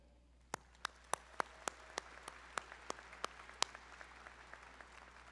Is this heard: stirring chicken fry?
no